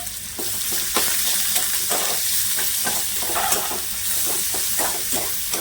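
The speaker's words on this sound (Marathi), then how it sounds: "कांदा सुद्धा आहे ना चांगला परतून घ्यायचा" Chopped onion sautéing in a pan with garlic tempering, a steady loud sizzle with repeated scraping stir strokes throughout, close and with no talking.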